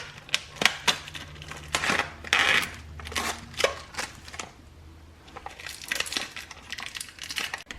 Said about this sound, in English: I'm going to take a pair of scissors and cut them apart like this so I can get one dessert at a time.